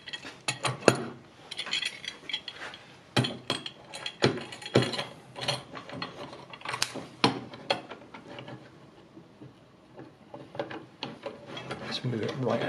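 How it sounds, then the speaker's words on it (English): Clamps being tightened onto an acrylic sheet in a workshop, a busy run of close ratcheting clicks, screw squeaks and rubbing taps lasting several seconds, with no talking. "Another clamp on the other side."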